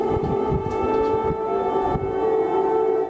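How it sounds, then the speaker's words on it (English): An air raid siren wails as a steady, sustained tone during a Russian drone attack on Kyiv, Ukraine, heard over a constant low rumble of outdoor city noise. "An air raid siren blares amid a Russian drone attack on the Ukrainian capital."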